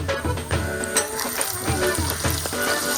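Onion, ginger, garlic and green chilli frying in a pan, a steady close sizzle with scattered crackles and light stirring knocks throughout.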